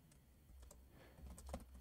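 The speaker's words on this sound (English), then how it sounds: "let's go ahead and start typing this out" Typing on a computer keyboard during a shorthand dictation exercise, a quiet, steady patter of key clicks with a few firmer strokes near the end, heard alone without talk.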